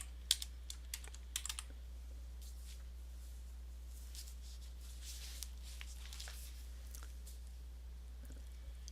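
Computer keyboard typing a file name, irregular bursts of light close key clicks over a steady low electrical hum, quieter in the middle and resuming toward the end; no talking.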